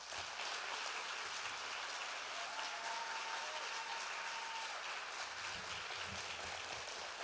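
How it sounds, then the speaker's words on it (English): An audience at a public education address in Chula Vista gives a sustained round of applause, a soft, even, rain-like wash of clapping heard from a distance. "Please give him another round of applause"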